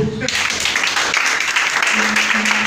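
Church congregation applauding, a steady wash of clapping from many hands that holds throughout, with voices mixed underneath.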